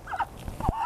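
Backyard chickens kept alongside a duck give a couple of short, throaty clucks in under a second, close and moderately loud.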